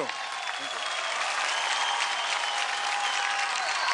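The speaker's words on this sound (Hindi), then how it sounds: "दया के लिए जोरदार तालियां।" A studio audience at the Sa Re Ga Ma Pa L'il Champs 2011 children's singing show breaks into loud, dense applause that holds steady and close for the whole few seconds.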